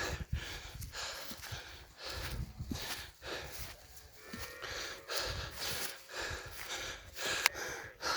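Heavy, rhythmic panting comes from someone climbing a mountain trail on a monks' walking pilgrimage to Phu Khao Khwai. The breaths are close and loud, repeating about once a second, with scuffing steps and no speech.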